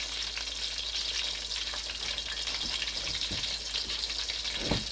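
Fish frying in a pot of oil over medium-high heat, a dense continuous sizzle and crackle close up with a few louder pops, no voices.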